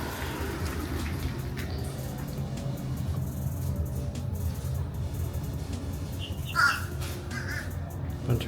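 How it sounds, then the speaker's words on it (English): Crows caw near a pond where alligators live, a short burst of harsh calls rising over a steady wash of outdoor background noise. "Bunch of weird birds I've never seen either."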